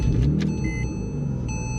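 A Tesla car rolling along at low speed after a fuse repair, heard as a steady low rumble of road and tyre noise from inside the cabin, with faint electric whine and a few light clicks and thumps, no voices.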